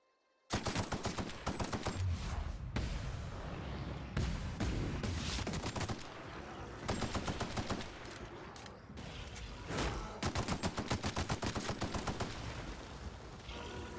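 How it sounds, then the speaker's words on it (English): Sustained automatic assault rifle fire in The Outer Worlds, loud and close, rattling in several long bursts with brief gaps over fourteen seconds, with no talking. "let's try out the assault rifle"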